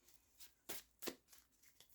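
A small deck of cards gets a quick, light shuffle: a few soft, papery riffling bursts spread over two seconds, close and quiet.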